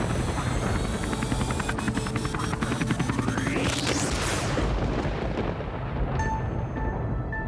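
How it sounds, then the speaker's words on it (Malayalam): A loud, chaotic roar of a helicopter going down, with a rising whine, rumbling booms and crashing debris, followed by a fading ringing tone. "ഹെലികോപ്റ്റർ തകർന്നത് കണ്ടോ?"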